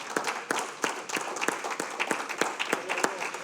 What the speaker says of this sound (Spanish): vamos, ese aplauso al Señor.